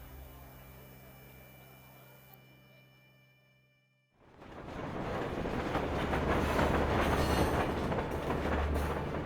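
Elevated train running on rails thirty feet above the Bowery as a radio drama effect: a quiet hum fades nearly to silence, then a loud, steady rumble and rattle of wheels on track swells in and holds.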